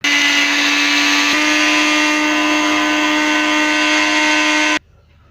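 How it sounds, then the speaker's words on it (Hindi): An electric grinder whirs loudly and steadily while grinding dahi barra masala spices, a continuous high motor whine that runs for several seconds with a brief dip partway, then cuts off abruptly into near silence. "हाणे असां हिननि खे पीसे वठंदासीं"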